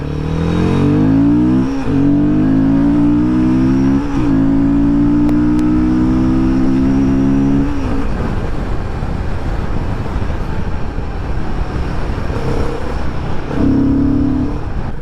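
A loud, close Royal Enfield Guerrilla 450 motorcycle engine accelerates hard, its pitch climbing and dropping with each of several gear shifts before settling into a steady roar.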